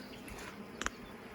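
Honey bees from a large caught swarm hum faintly and steadily, a soft close buzz with a brief sharper tick partway through.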